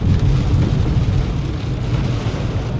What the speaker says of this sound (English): There's some strong winds right now.